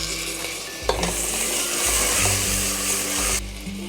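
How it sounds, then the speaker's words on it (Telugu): Onions, green chillies and tomato pieces with turmeric sizzle and fry in a pan, a steady loud hiss with stirring scrapes, no talking. "ఈ టమాటాలని రెండు మూడు నిమిషాలు ఉడకనివ్వాలి"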